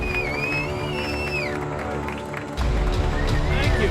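Audience applause and cheering in a studio setting, a dense steady wash of clapping with a louder swell midway, with crowd voices mixed in.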